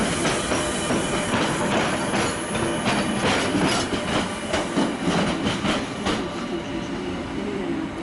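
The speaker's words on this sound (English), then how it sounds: "Here's a locomotive I haven't seen before. It's a 480" A class 480 locomotive hauling a train through Budapest Keleti station, with rumbling wheels and a rapid series of rhythmic clacks over rail joints, moderately near and steady for several seconds.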